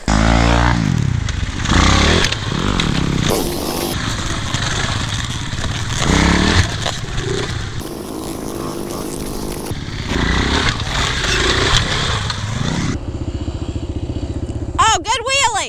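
A brand-new Kawasaki KLX140 dirt bike rides nearby, its small engine buzzing and revving up and down with passing surges and some rattling. People talk and shout over the motor throughout.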